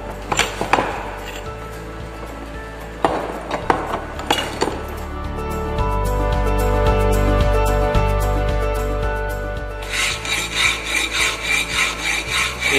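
Hand file rasping the edge of a steel plate to prepare a square butt weld joint, loud close strokes in uneven rhythm, then a steady grinding run and a quick series of short repeated scrapes.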